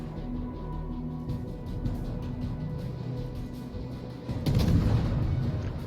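A naval gun fires in the warship video game World of Warships: one heavy, booming shot rolls out near the end over a constant low rumble of battle ambience.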